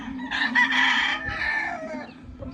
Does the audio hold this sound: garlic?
no